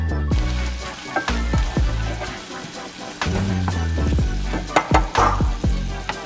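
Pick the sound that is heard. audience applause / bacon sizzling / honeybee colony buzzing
bacon sizzling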